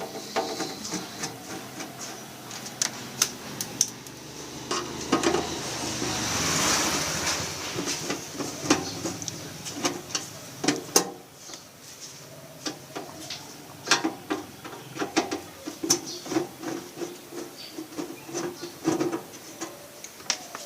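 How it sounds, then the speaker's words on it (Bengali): Screws are backed out of a voltage stabilizer's metal casing, giving a steady scatter of close, crisp clicks and small scraping taps throughout, with no speech. "প্রথমে আমাদের স্ক্রুগুলো খুলে নিতে হবে।"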